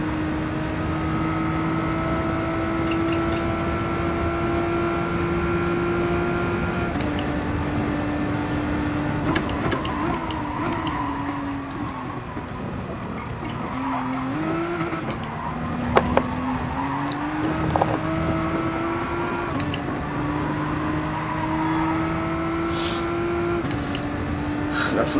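Racing car engine in the video game Gran Turismo, a steady high drone that rises and dips with gear changes and revs, loud and continuous for the whole stretch with faint background clatter.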